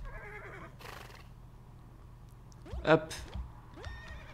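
A horse whinnies in a video game, a short close neigh past the middle, amid a man's brief spoken remarks and scattered game sounds.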